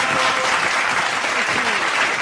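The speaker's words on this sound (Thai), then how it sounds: "ขอเสียงปรบมือแบบยิ่งใหญ่ที่สุด" Audience applause breaks out on a Thai variety show, a dense, steady wash of clapping lasting a couple of seconds with some voices mixed in underneath.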